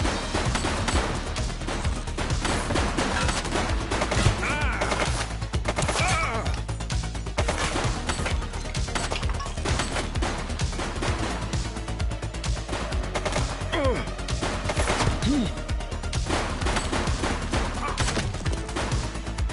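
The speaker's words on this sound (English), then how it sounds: "He's shooting!" Gunfire in The Precinct police game, a steady stream of cracking shots and impacts running through the whole stretch at moderate loudness, dense and unbroken.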